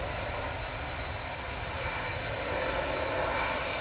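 A steady, fairly faint broadband roar of an Emirates airliner's engines as it lines up on the runway at Manchester Airport, heard from a distance with no talk.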